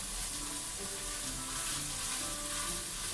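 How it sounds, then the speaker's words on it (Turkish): Onions, carrots and peppers sauté with a spoonful of pepper paste for a cauliflower dish, giving a steady, even sizzle with no breaks from start to finish, heard up close. "soğanımız, havucumuz, biberlerimiz kavruldu. Şimdi bir yemek kaşığı da böyle biber salçası ilave ediyorum."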